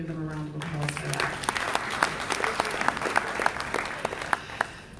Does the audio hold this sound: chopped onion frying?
no